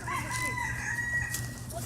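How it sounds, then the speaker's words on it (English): Chickens fight, with continuous loud clucking and crowing from the fowl and background voices mixed in. "The chicken brawl of a lifetime."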